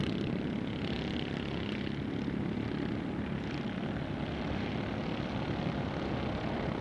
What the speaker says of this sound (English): Connor Berry running a very smooth race, and you can see Ryan Rodriguez now trying to get in on the infield